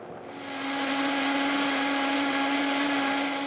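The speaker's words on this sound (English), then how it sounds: "We need to blend all of these ingredients at high speed until a smooth puree develops." A kitchen blender runs steadily at high speed, pureeing Thanksgiving side-dish ingredients seasoned with chili flakes into a smooth mixture; the motor is a continuous loud whine with no talking.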